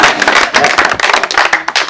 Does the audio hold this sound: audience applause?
yes